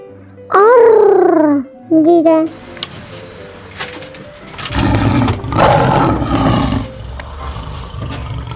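A lion's deep roar, voiced by a person imitating it rather than a real animal, comes as two short loud bursts, followed by children talking and background chatter.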